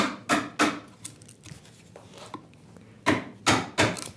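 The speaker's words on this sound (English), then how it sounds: "So this is splitting down to the bottom of that knife wall" A chisel splits wood fibre down to a knife wall while cutting a housing dado, giving sharp, close woody knocks and cracks in irregular bursts, a few quiet gaps between strikes, and no talking.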